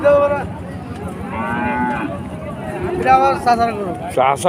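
Cattle moo loudly several times at the Chuknagar cattle market, long drawn-out lowing calls close by, with people chattering in the background of a busy crowd.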